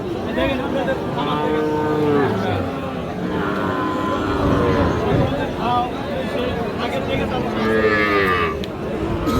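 Sahiwal bulls and calves moo repeatedly at a busy cattle market in Raniganj, with deep overlapping calls close and farther off over a steady crowd murmur and people talking.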